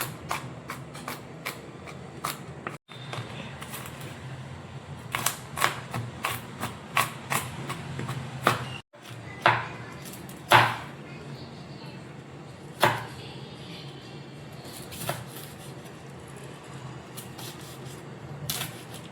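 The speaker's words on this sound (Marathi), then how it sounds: "मी लसणाच्या पाकळ्या भरपूर अशा घेतलेल्या आहेत, तर आता मी त्याला चॉपरने बारीक करणार आहे" A food chopper cuts garlic cloves in a home kitchen: a run of sharp, irregular clicking and clacking strikes, some louder than others, close by, with a faint voice talking quietly underneath.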